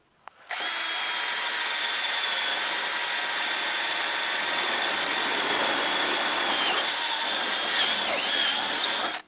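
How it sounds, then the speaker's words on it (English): A power drill runs steadily through three stacked layers of aluminum on a car's B-pillar, a loud, continuous high-pitched whine that rises slightly near the end, close and alone. "I'll drill with my drill."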